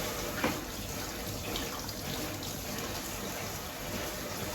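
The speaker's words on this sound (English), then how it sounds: "I'm going to turn this to the rain because there's 3 settings on this new shower head." A new shower head on its rain setting sprays water in a steady, soft hiss during a dog groom, a continuous even wash of spray at moderate distance with no talking.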